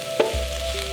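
Scrambled eggs being stir-fried with rice for homemade Chinese fried rice, a short burst of sizzling with a brief scrape of stirring near the start, then a steady hiss with no voices.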